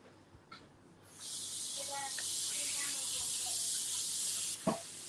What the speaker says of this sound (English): And then spray a bit of extra water there.